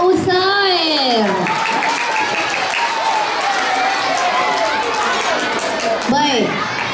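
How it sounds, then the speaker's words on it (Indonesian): A school audience keeps up loud applause throughout, with children's cheering and shrill voices rising and falling on top of it. "Berikan sekali lagi tepukan untuk Muhammad Uzair."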